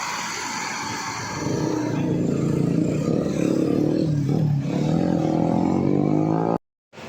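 Sinar Jaya and Star Bus coach buses pull out together to refuel, a loud, steady engine drone with deep rumbling harmonics holding close throughout, then cutting off abruptly near the end.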